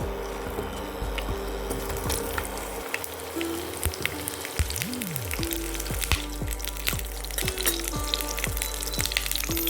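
Cauliflower pieces frying in hot oil in a wok on an induction cooker, a steady loud sizzle and crackle throughout, with a faint hum underneath and occasional stirring noises.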